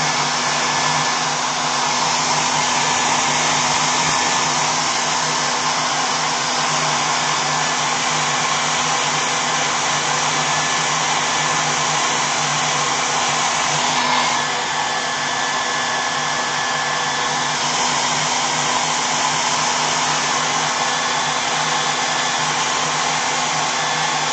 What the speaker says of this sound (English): I will add some hair dryer, sorry for the noise.